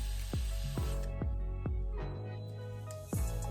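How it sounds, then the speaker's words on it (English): A spray bottle sends quick bursts onto hair just before a blue lace frontal wig goes on, about six short, close hissing pumps in a brisk, uneven rhythm. "I just spray right where I'm about to put the wig"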